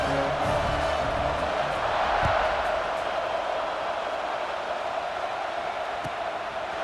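Football stadium crowd at an LSU at Florida game roaring steadily just before kickoff, a dense, sustained wash of cheering and voices filling the whole stretch without a break.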